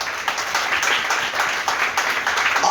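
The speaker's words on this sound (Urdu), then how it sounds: "زوردار تالیاں بجائیں اس بات پہ" A church congregation at a Sunday gathering claps in a brisk, steady burst of applause that fills the room for a few seconds.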